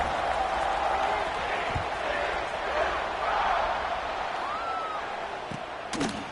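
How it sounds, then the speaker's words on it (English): Stadium crowd at a college football kickoff involving TCU, a broad steady roar of cheering filling the background, with a few sharp bangs near the end. "They're set to kick it off, and this crowd now ready to get behind them."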